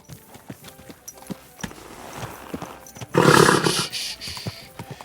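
Horse hooves clop in a medieval video game, footfalls scattered among ambient sounds, then a loud, rough snorting neigh bursts out for about a second before settling back to hoofbeats.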